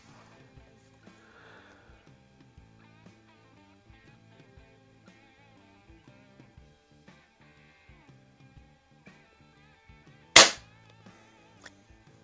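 A single sharp shot from an AR2078 CO2 air rifle with an adjusted 7 oz trigger, loud and close, cracking out once amid quiet handling clicks and ticks.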